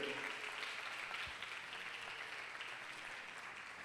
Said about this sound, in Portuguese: Pode aplaudir o Senhor se você assim quiser.